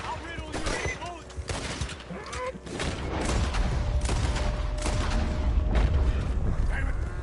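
Rapid bursts of gunfire ring out in Red Dead Redemption 2, a dense, rumbling volley that swells and keeps rolling, with a player shouting over the shots.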